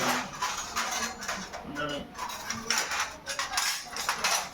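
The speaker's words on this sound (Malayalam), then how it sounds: "പാത്രം കഴുകാൻ മടിയില്ല." Dishes and cutlery clattering and scraping during home washing-up, a steady stream of close clinks and knocks with running-water hiss throughout.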